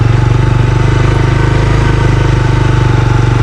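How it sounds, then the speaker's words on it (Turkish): A manual-gearbox motorcycle in first gear pulling away slowly with a little throttle, its engine thumping in a loud, close, rapid pulsing rhythm that holds steady throughout, with no talking. "motosikleti birinci vitese aldık ve motosikletin kavrama noktası gelince biraz da gaz verdik"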